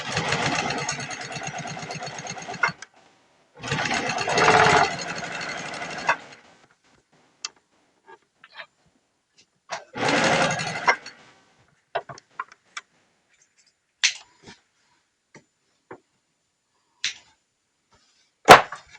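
A sewing machine stitching patchwork from jelly roll scraps runs in three short bursts of steady whirring, each a couple of seconds long, separated by quiet gaps with scattered small clicks and taps.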